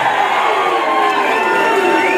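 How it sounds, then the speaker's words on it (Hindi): A large crowd at a political rally cheers and whoops to welcome Owaisi, a loud, dense and continuous roar of voices with shouts rising above it throughout. "तालियों से इस्तकबाल करें।"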